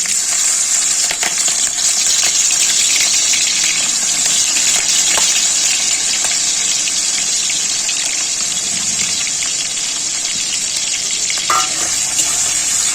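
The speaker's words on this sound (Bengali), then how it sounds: "এই যে কুচো চিংড়ি মাছগুলো নুন হলুদ মাখিয়েছি এবার আমি জলটাকে একটু চিপে মাছটা একটু ভেজে নেবো" Small shrimp coated in salt and turmeric fry in hot mustard oil, giving a steady loud sizzle and crackle throughout.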